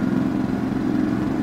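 A motorcycle engine from a bike mod for the Euro Truck Simulator 2 video game, a steady low droning hum at an even pitch with no breaks.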